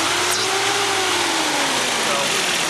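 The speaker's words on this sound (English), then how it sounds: "anyways, but the car does rev" A car engine with a loose, popped-off grommet revs and winds up, then eases back down, loud and close, with a steady rushing roar throughout.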